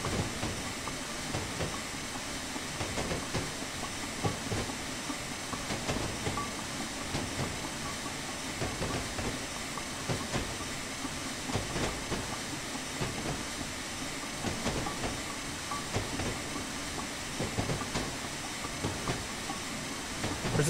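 Steady chuffing and hiss of a Black 5 steam locomotive gaining speed on the North Norfolk Railway in Train Simulator, with a continuous rolling rail rumble and faint clicking throughout, loud and close with no talk.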